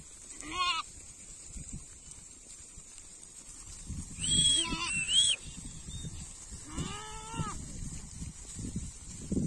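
Sheep and goats grazing in an emptied wheat field in a village, with a few separate bleats standing out over low, rustling field ambience and faint background activity.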